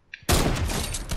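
A single sniper rifle shot in Fortnite cracks loudly and close, its dense blast sustaining and rolling off across the whole second after a brief faint lead-in.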